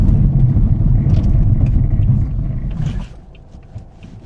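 Volvo V40 with 220,000 miles braking hard on a loose road surface with ABS working: a loud, steady low rumble and road noise that drops off as the car comes to a stop.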